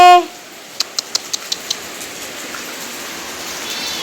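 Rainy-season rain falls as a soft, even hiss, with a quick run of five or six light taps near the start, after a brief louder tone fades out.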